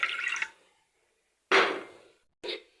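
Water is poured into a cooking pot, 2.5 cups, to make a cough and cold remedy drink. Three separate splashing pours come close by, separated by short silences, with no talking.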